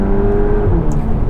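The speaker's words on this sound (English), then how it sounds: "That engine sounding gnarly," A 2023 Volkswagen T-Roc R's engine pulls hard under acceleration, a loud, close, sustained drone with a steady rising tone and no speech over it.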